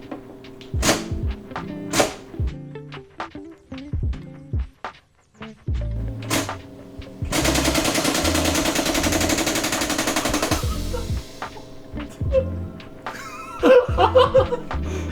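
A Northeast Sten gas blowback airsoft gun empties a 20-round magazine in one rapid, loud, continuous burst lasting about three seconds, with scattered clicks and handling thumps before and a few sharp knocks after.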